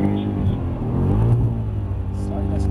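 Mercedes-AMG car at a driving experience track, its engine held at a steady moderate rev with a low rumble, continuous and close throughout, while an instructor speaks over it.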